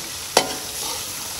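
Red chili being mixed into food cooking in a pan, with a sharp utensil knock against the pan at the start, then a soft continuous sizzle and stirring scrape.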